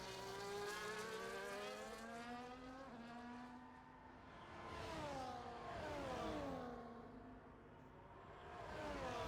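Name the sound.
McLaren race car engine in a racing video game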